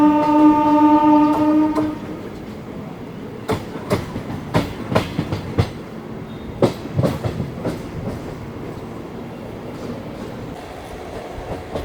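A MEMU passenger train running near Madhira gives a loud horn blast, then a steady rhythmic clickety-clack of wheels over rail joints, with rattling carriage noise and no voices.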